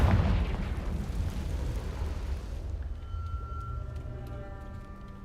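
A Confringo blasting spell in Hogwarts Legacy lands with a heavy, rumbling explosion that bursts loudly at the start and slowly fades into a low rumble, leaving faint tonal game sounds ringing behind it.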